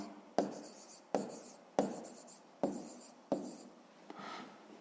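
A pen scratches out a fifth-grade math exercise on paper in five distinct strokes at a steady pace, close and quiet, with a softer rub at the end.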